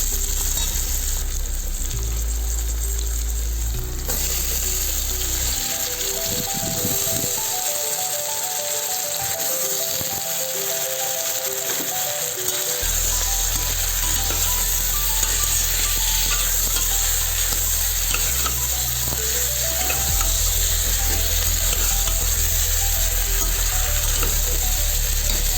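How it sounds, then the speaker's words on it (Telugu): Black-eyed peas, brinjal and tomato frying for a curry make a loud, continuous sizzle with rattling stirs. A steady low mechanical hum comes and goes underneath, and no one speaks. "ఒక నిమిషం పాటు వేగనివ్వాలి."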